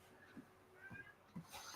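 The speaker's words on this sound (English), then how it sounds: "The cat is still going," A cat meowing repeatedly in the background, three or four faint, short mews spaced about half a second apart, quiet and somewhat distant.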